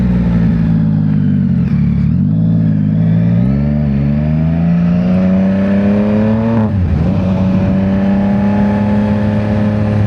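A Victory motorcycle on the road, engine drone rising and falling through gear changes, loud and close with steady wind rush and no talk.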